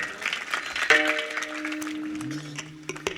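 Audience applause at a Marathi kirtan devotional gathering with a huge crowd, clapping spread across the clip at moderate level while sustained harmonium-like tones hold underneath.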